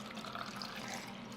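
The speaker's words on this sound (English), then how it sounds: "Now we'll add 2 cups of water." Two cups of water pour into a blender jar for ginger turmeric shots, a steady close splashing hiss that runs without break for the whole moment, with no one speaking.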